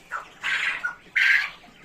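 Chickens squawk and cluck nearby in a few short raspy bursts, with a brief pause between calls.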